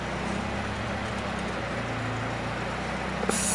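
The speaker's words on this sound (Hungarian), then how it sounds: "De vajon megjavítottam-e az alapjáratot?" A Peugeot 205 GTI engine idles with a steady low rumble, heard close and continuously for a few seconds, with a brief faint clack near the end.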